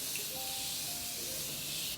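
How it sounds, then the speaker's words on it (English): Morphe setting spray misted onto a face, a steady continuous hiss lasting about two seconds, close and fairly loud, with no talking. "I use the Morphe setting spray."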